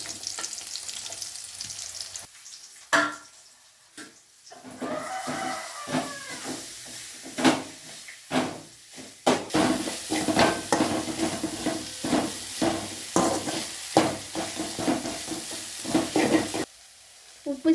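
Grated raw mango with chickpea lentils stir-fried in a hot pan for mango rice, a steady sizzle broken by repeated scraping and clattering strokes of a spoon against the metal, close and fairly loud throughout.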